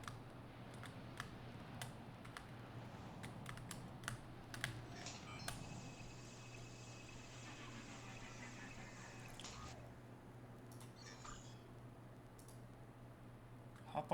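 Rapid computer keyboard typing with mouse clicks, continuous and close, over a steady low hum during play of the bush-flying game Frontier Pilot Simulator.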